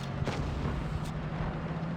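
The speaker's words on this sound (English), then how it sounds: "Sound of the missiles." Missile launch in World of Tanks Blitz, with a rough, steady rumble and a couple of faint bursts across two seconds. The sound stays at a moderate, even level, with no talk over it.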